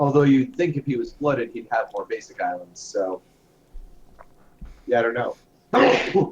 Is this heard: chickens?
no